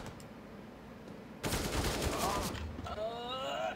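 Video game gunfire breaks out as a sudden loud burst of rapid shots in a dense fusillade lasting about a second, followed by fainter electronic game tones and effects.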